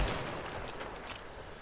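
Gunfire in the video game Splitgate, a steady dense crackle of shots running continuously through the short stretch at moderate loudness, with no talk over it.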